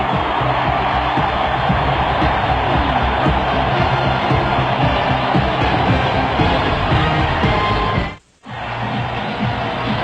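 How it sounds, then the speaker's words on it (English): A record crowd at Lambeau Field roars steadily for a Green Bay Packers touchdown in an NFC Divisional game against the San Francisco 49ers, a loud unbroken din that cuts out briefly near the end. "The Packers lead it 35-14 to the delight of a record Lambeau Field crowd"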